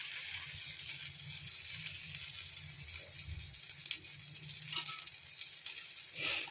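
Steady crackling sizzle of thalipeeth, a multigrain flatbread, frying in oil on a hot griddle, close up, with occasional louder pops.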